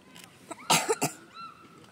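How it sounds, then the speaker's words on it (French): Someone coughs outdoors at a pond-side beach during a carp fishing outing, a few sharp, close throaty bursts in quick succession, followed by a faint voice. "J'ai envie de tousser à cause de la glace."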